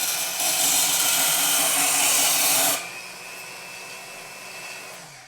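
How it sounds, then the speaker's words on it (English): A portable bandsaw mounted in a vertical stand cuts through a burned Simpson Strong-Tie metal connector, a loud steady whine that stops abruptly midway, leaving a quieter motor hum running alone. "We'll saw this burned up piece of Simpson strong tie."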